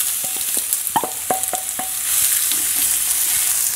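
Sliced onions hit a hot pan for a chicken stir fry, with a few sharp clatters and scrapes of stirring over a close, loud sizzle that swells into a steady hiss.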